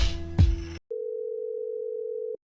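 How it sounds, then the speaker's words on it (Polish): Telephone pickup sound effect in a 111 BPM hip-hop beat: a brief clunk of the handset lifting over the music, a short silence, then a steady dial tone droning alone for about a second and a half. "Dźwięk podnoszenia telefonu."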